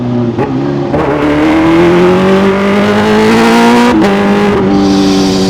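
A Kawasaki H2 supercharged motorcycle fitted with a Vandemon full-system exhaust revs hard and loud near the microphone, the engine climbing steadily in pitch with a brief dip and surge toward the end, no voices over it.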